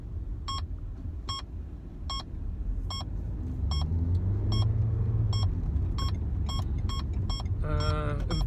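A car creeping up a path behind a parked vehicle, a low engine rumble building over the clip beneath a steady repeating electronic beep, with no voices.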